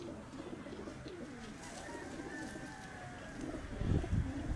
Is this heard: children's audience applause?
no